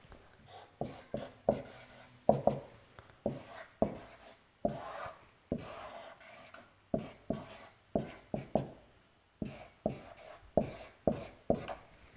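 Chalk or marker strokes on a classroom board come in quick, scratchy bursts with short pauses between them, close and fairly quiet, during a physics lecture on circuits.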